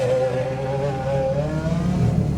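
Hypercars accelerate up a strip one at a time, a steady engine roar whose pitch rises gradually, heard from a car waiting in line, with no talking.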